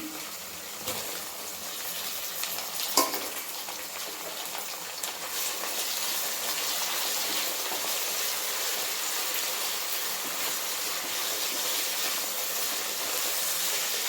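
Tomatoes sizzling in a hot pan for chicken biryani made with korra rice, a steady, close frying hiss that runs unbroken with a few small pops near the start.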